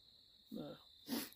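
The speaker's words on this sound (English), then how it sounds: "Crickets already chirping." Crickets chirping at a campsite, a thin steady high chirr running faintly throughout, with two short bursts of a voice breaking in over it.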